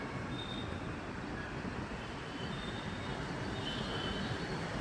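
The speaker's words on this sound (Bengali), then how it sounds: "ওই যে একটা ট্রেন আসছে," A metro train rolls into a station, its loud continuous rumble of wheels and carriages filling the air, with faint high wheel squeals heard now and then.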